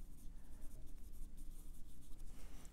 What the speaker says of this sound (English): If you could hear my pencil, every once in a while I'm still moving